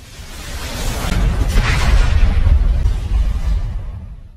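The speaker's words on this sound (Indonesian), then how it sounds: "menutup jejak dengan ledakan yang menghancurkan" A large explosion destroys a camp in an action film, a deep rolling boom with a whooshing burst that swells and then fades away over several seconds.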